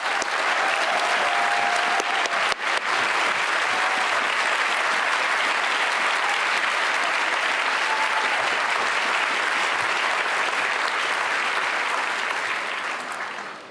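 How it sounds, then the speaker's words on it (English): Sustained audience applause at the 2018 Radcliffe Day ceremony, a large crowd clapping steadily and loudly for nearly fourteen seconds before tapering slightly at the end. "let us all give you and Sid a big round of applause"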